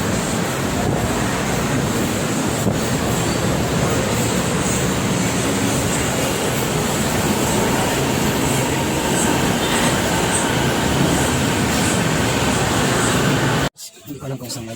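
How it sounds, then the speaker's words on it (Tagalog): An MRT metro train on an elevated line heading toward Pasay Rotonda in Malibay, Pasay rumbles steadily and loudly throughout, a broad continuous roar with faint rail squeal, ending abruptly near the close. "That's MRT going to Pasay Rotonda."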